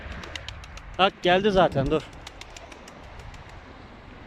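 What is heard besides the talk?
pigeons cooing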